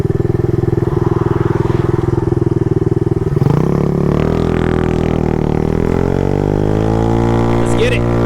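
An Icebear Maddog scooter with a swapped GY6 150cc engine idles with a loud, close, rapid putter, then the throttle opens and the engine note rises and holds as it pulls away, while someone speaks over it.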